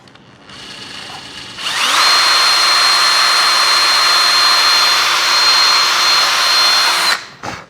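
A power drill bores a hole through fiberglass on a Fi 186 Storch model airplane build, a loud, steady high whine that spins up, holds for about five seconds and then winds down, with no talking over it.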